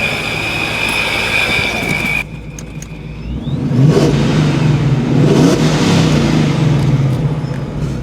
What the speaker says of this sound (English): I'll let you guys get some revs really quick.